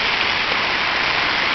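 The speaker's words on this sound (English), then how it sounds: "It's raining, it's pouring" Rain falls steadily on a surface, a close, even, dense hiss of many drops with no other sounds.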